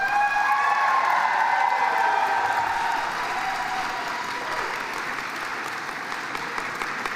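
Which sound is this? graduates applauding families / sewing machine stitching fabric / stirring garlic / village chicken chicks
graduates applauding families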